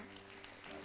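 A church congregation bursts into applause, a dense, steady burst of clapping that fills the brief moment at moderate volume.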